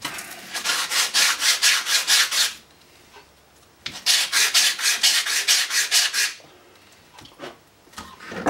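Two bursts of brisk, rhythmic sanding strokes rounding the edge of a cane slip, loud and close, separated by a quiet pause, with a few lighter scrapes at the end.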